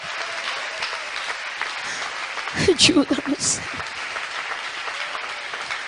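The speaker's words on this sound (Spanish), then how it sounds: "dale un aplauso al Señor en esta tarde" Church congregation applauding during a sermon, a steady wash of clapping through the whole stretch with a voice speaking over it partway.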